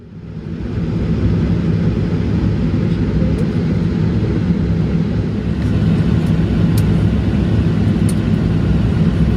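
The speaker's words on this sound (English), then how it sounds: "Porter's inaugural Toronto to Vancouver flight has touched down at YVR Airport." Porter Airlines Embraer E195-E2 jet touching down at Vancouver's YVR airport on its inaugural flight from Toronto, a steady loud low engine roar and rumble filling the cabin throughout, with no talk.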